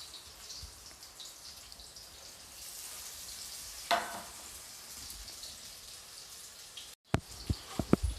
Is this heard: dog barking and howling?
no